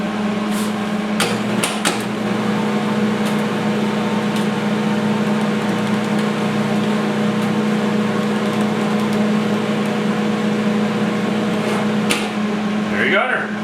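MillerMatic 185 welder feeding wire at high speed, a steady loud motor whine with a constant hum held throughout, punctuated by a few sharp clicks and knocks near the start and end.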